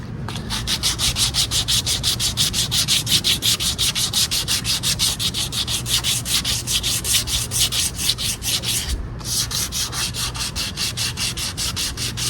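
Driftwood being sanded by hand, with quick, even back-and-forth rubbing strokes repeated in a steady rhythm, close and loud, broken by one short pause.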